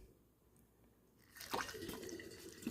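Water pours into a big jug for mead making, a faint trickle at first that swells into a louder, gurgling stream of liquid filling the container, close and alone without talk.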